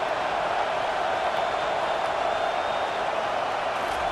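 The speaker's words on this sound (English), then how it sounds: "Decibels rising as the crowd gets behind this defense on third down." A stadium crowd in the video game College Football 25 roars as a steady, dense wash of noise on third down, unbroken and fairly loud throughout.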